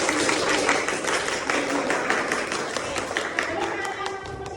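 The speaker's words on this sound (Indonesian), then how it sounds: "Kita kasih tepuk tangan dulu." Classroom of junior high students at an Islamic school clapping together for correct answers, a dense, steady patter of many hands that stays loud throughout with voices mixed in.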